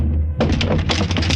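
A door is kicked open in a radio crime drama: one sharp heavy thunk followed by a rattling, scuffling burst of impact noise, close and loud.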